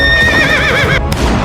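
Horses whinny loudly and close at hand with clip-clopping hooves underneath, a short, dense burst of neighing that cuts off abruptly.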